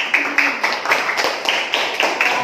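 Irregular claps from a small class, some sharp and some softer, spread over a couple of seconds with faint background murmur.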